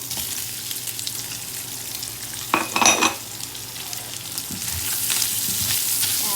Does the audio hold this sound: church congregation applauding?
no